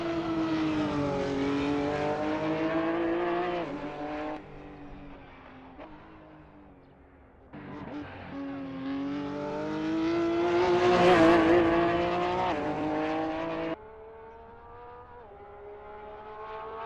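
Porsche 911 GT3 Cup 2017 race car in Assetto Corsa lapping the Nordschleife, its engine loud and close as it revs up and down through the gears in sweeping rising and falling pitch, with a sharp drop-off near the end.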